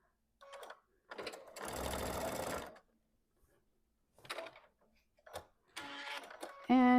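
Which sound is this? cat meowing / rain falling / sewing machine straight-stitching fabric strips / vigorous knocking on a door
sewing machine straight-stitching fabric strips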